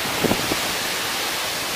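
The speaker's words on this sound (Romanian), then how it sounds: "afară efectiv e furtună, n-am văzut-o în viața mea să bată vântul atât de tare." Steady broadband roar of a strong windstorm buffeting close by in Orăștie, raising dust, with a few brief gusty thumps early on and no talking.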